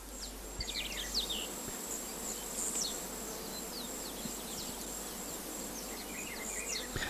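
Bees buzzing steadily around nectarless oil flowers, a continuous droning hum with no voices, joined by faint high insect chirps throughout.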